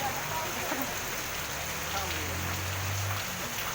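Steady heavy rain in Aurangabad hisses evenly throughout, with a faint low hum underneath and no clear voices.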